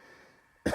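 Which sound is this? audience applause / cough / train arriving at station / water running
cough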